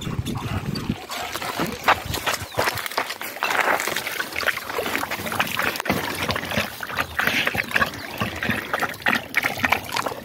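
Water runs steadily from a pipe beside a hiking trail in a natural park, a continuous close trickling and splashing that fills the whole stretch without speech.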